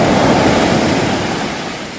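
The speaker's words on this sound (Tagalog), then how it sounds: "O nga, malakas ang alon ngayon." Strong ocean surf driven by monsoon winds on a Mindoro coast, a loud, continuous roar of breaking waves with wind buffeting the microphone throughout.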